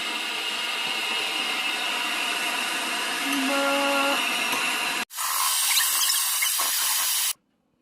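A power drill fitted as a mixer whips cream, a high, steady whirring whine for about five seconds, a brief stop, then a harsher higher-speed burst before cutting off abruptly.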